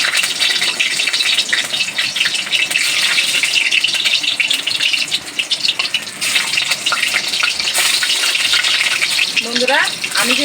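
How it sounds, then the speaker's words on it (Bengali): Dough balls deep-frying in an oil-filled kadai give a loud, steady sizzle and hiss that fills the whole stretch, and a brief voice comes in near the end. "আমি কিন্তু এইভাবে সমস্ত লেচিগুলোকে ভেজে নেব।"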